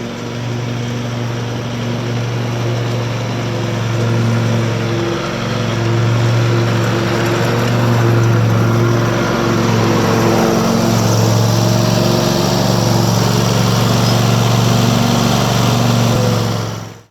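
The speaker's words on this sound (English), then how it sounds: "show you what happens if you try and mow down the hill, or if you're trying to maneuver the mower while you're going down the hill" A zero turn lawn mower drones loud and steady as it mows down a grassy hill, its engine hum wavering slightly in pitch throughout with no pauses.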